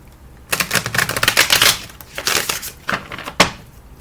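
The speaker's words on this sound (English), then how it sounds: "Let me shuffle the stiff cards for the next." Stiff tarot cards being shuffled by hand, with bursts of crisp riffling and flapping at close range, several quick flurries and then two short sharp snaps near the end, no talking over them.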